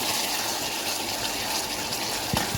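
Fatteh sauce ladled into a pan of frying garlic and onion with tomato, giving a steady broadband sizzle and splash that runs throughout, with a couple of brief clinks near the end.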